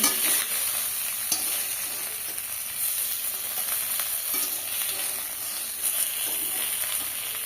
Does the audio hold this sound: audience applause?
no